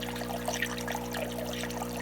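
Finely crushed shrimp food poured from a sandwich bag into an aquarium tank, a steady soft granular pouring rush over a constant low tank hum, close and continuous with no talk.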